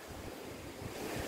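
Sea waves break against rocks on an island shore in strong wind, a steady dense roar with heavy wind buffeting the microphone, brief and without speech.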